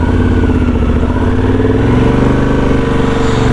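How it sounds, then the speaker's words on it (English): A motorcycle with a light clutch being ridden on a road trip from Italy to Bosnia, its engine droning loudly and steadily up close with a slight rise in pitch toward the end, no voices. "One thing I do like about this bike, it's got a really light clutch."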